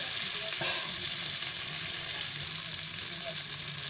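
Chicken and petha frying in a covered pan on low gas give a dense, even sizzle that holds at a constant level, with a couple of faint knocks near the start.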